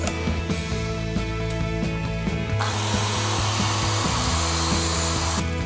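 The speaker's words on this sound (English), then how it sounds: "Let's put this one onto the miter saw." A miter saw cuts wood for a pot plant holder. The motor spins up with a steady whine, then the blade bites in with a loud, harsh roar of cutting, close and continuous.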